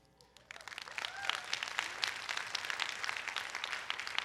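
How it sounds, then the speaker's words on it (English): Audience applause breaking out during a short flash talk on going from a GED to a PhD, with a burst of dense clapping after a quiet start that holds steady and fills the room. "See, they clapping took up 10 of my seconds."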